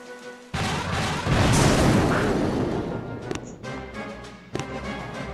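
Cannons fire in a video game, heavy booms rolling into a long noisy rumble that swells and slowly decays, followed by a sharper blast near the end, loud and close with no talking.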